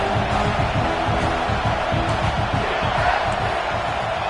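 A dense football stadium crowd roars steadily throughout, a loud continuous wash of cheering and shouting from a large game-day audience with no pause.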